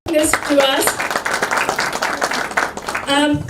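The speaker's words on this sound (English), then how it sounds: "please give a big round of applause to Chanakya and Teja for bringing this to us" Audience applause at an event, a burst of claps and cheers through the middle, loud and close, with voices talking at the start and end.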